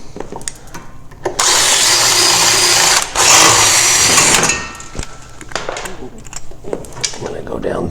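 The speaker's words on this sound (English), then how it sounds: "there is these two nose cone or nose piece rivets that you have to drill out" A drill bores out the nose cone rivets on a 2016-2020 Polaris RMK AXYS snowmobile in two loud, high whining bursts, separated by a brief pause and surrounded by quieter handling clicks and taps.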